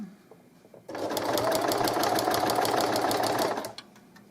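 A sewing machine stitches the edge of a double-sided baby blanket, starting abruptly with a steady, fast whirring hum and rapid needle clatter for nearly three seconds before stopping, close and alone.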